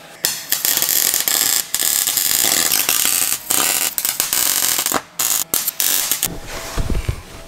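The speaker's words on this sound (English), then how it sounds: "let's get the welder out and start welding" MIG welding on patches over holes in a Nissan 180sx body, heard as loud, close crackling and sizzling bursts broken by short pauses between welds.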